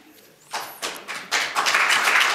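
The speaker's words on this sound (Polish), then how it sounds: "I prosimy o brawa." Applause at an academic award ceremony starts with a few scattered claps and quickly swells into a fuller, steady round from the audience.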